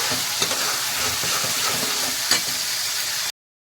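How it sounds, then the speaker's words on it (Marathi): Spice masala roasting in hot oil for Kolhapuri mutton curry, a steady close sizzle with occasional stirring scrapes, alone without talk, then cut off abruptly near the end. "तीन चमचे मी मसाला घातलेला आहे तो चांगला तेलात भाजून घ्यायचा"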